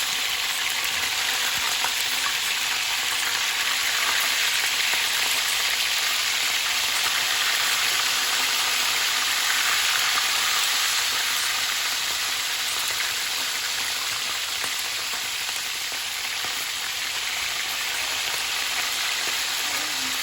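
Fish sizzles and crackles steadily in hot cooking oil, a dense, continuous frying hiss that holds at an even loudness for the whole stretch with no talking.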